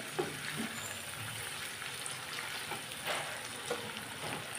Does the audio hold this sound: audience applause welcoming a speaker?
no